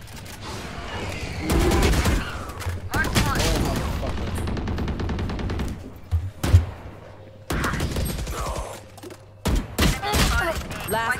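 Bursts of Valorant gunfire, sharp rapid shots and thuds arriving in clusters, loud and close, with a player talking between and over them.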